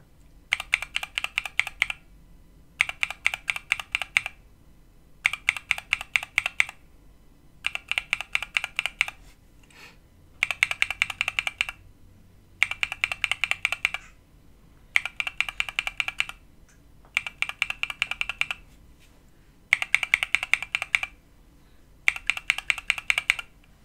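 Typing on an OwLab Tungsten mechanical keyboard fitted with lubed switches: ten even bursts of rapid, close keystrokes, each about a second long, separated by short pauses, with no voices.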